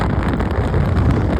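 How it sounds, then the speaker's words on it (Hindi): Strong wind roaring over a rough sea aboard a merchant ship in the South Atlantic Ocean, a steady loud broadband rush with deep buffeting and no pauses. "बहुत तेज़ हवा चल रही है"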